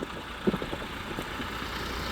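A farm tractor engine ready for ploughing a field runs at a steady idle, a low, continuous rumbling drone heard from a moderate distance with a small knock near the start.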